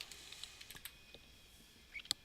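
Fingers type on a computer keyboard, producing a light, irregular patter of key clicks with a couple of sharper taps near the end, close and faint in a quiet room.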